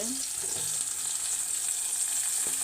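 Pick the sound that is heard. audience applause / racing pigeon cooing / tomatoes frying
tomatoes frying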